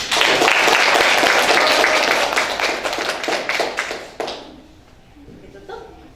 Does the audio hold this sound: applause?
yes